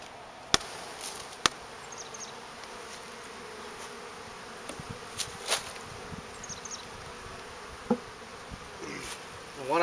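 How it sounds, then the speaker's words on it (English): Bees being put into a hive buzz steadily nearby, with a few sharp knocks and bumps of hive parts standing out over the constant hum. "I'm going to put these bees in the hive"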